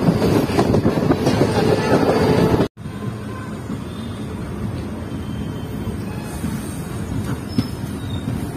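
The Punalur–Madurai Express rolls along with a steady rumbling rattle heard from inside, broken by a sudden cut, then a quieter rolling drone with faint wheel squeals.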